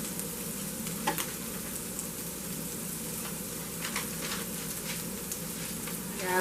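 Onion and bell pepper seasoning sizzling in a hot pan, a steady soft crackle and hiss with occasional louder pops, close and continuous with no talk.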